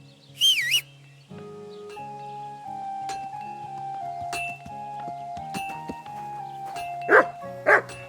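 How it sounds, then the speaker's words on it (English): A dog in the medieval game Kingdom Come: Deliverance 2 gives a couple of short barks near the end, over soft game music with chimes and bird calls. "You silly doggy."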